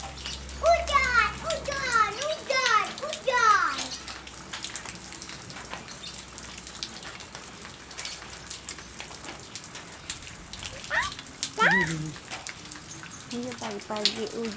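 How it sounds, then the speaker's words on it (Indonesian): Morning rain hisses steadily outdoors while children play close by, their high voices chattering and calling out in bursts over the soft wash of falling water. "Iya, pagi-pagi hujan ya."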